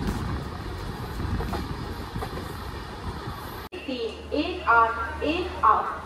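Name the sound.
train running toward Tarapith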